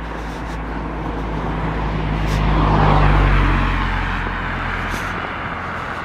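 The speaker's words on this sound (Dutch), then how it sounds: "komt er toch een auto." A single car on a road at night approaches from a distance, swells to a loud, close rush as it passes, and fades away again, with no talking over it.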